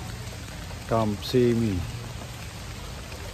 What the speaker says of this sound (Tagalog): Kaso lang, tuloy-tuloy ang ulan.